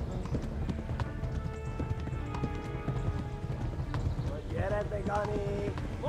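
Rapid clip-clop of hooves as a horse gallops in the medieval game Kingdom Come: Deliverance, steady and close, with faint in-game sounds and a player talking over it.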